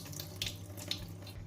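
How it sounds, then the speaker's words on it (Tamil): Tap water runs steadily over soaking lentils, chana dal and toor dal, in a home kitchen, a close, continuous light splashing with no talk. "தண்ணி ஊற்றி 1 மணி நேரம் ஊறட்டும்"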